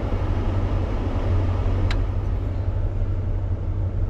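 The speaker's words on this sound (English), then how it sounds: "I just put the door window up and I got the heater fan on." A heater fan blows on its high setting inside a 1966 Ford Galaxie 500 convertible with the windows up, a steady broadband whoosh over a low droning rumble, constant and fairly loud throughout with no talking.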